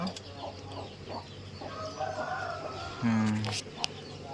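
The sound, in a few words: domestic country chicken clucking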